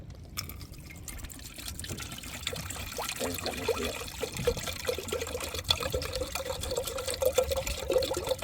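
Water is poured into a pot with ginger and tea leaves to make ginger tea aboard a fishing boat at sea. After a brief quiet start, a continuous close trickle builds in steady wind noise.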